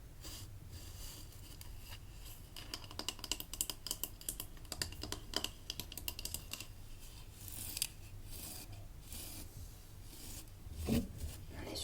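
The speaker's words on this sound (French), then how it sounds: "Il s'agissait d'une brosse à poil dur." A stiff-bristled brush rubbed in a dense, raspy scratching that runs steadily throughout, close and intimate, with quick bristly flicks and a brief stronger swipe near the end, no talking.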